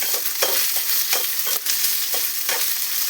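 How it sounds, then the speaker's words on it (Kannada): Onions, mustard seeds, curry leaves and garlic paste frying in a pan for soybean masala fry, a loud continuous sizzle with repeated rhythmic scraping of a spatula stirring, close and without talk. "ಸ್ವಲ್ಪ ಹೊತ್ತು ಫ್ರೈ ಮಾಡಿ."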